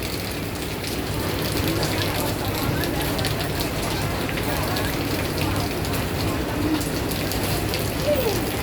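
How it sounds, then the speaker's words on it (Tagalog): Heavy rain pours steadily at an outdoor market in Tai Po, Hong Kong, a dense, constant hiss and patter across the whole stretch, close and loud, with faint voices mixed in. "Ang lakas po ng ulan."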